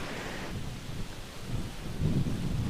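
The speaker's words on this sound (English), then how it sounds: "You hear that wind?" Strong wind buffeting outdoors in the Bahamas, a continuous loud rushing roar with gusts swelling toward the end.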